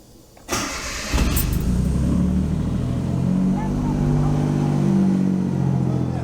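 A 1992 Suzuki Cappuccino's engine is cranked with a sharp starter burst, catches, and settles into a steady close idle, heard up close with no talk over it.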